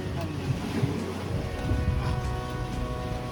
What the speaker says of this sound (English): there's some big swells coming in, that's for sure